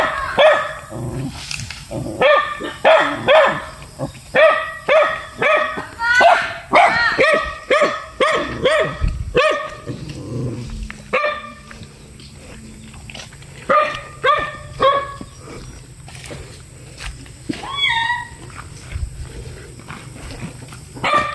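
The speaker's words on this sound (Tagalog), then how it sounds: "Tatapang ng mga aso dito." Several dogs bark repeatedly and loudly nearby in rapid, overlapping bursts, then more scattered barks after a brief lull.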